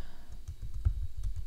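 Quiet, rapid keystrokes on a computer keyboard while entering a PowerShell command, forming a soft, irregular run of close clicks and dull thumps.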